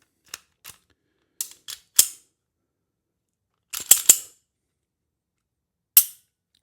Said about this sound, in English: So we're going to put the slide back on here.